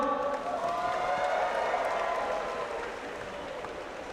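A convocation crowd cheers and applauds steadily, a broad wash of clapping and voices that holds loud before easing off slightly near the end.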